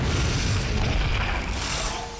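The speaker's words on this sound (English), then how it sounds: "Another corpse explosion." A corpse explosion spell cast by a mage in Diablo lands as a loud, dense rumbling boom that fills the moment, then tails off with a sharp pop at the very end.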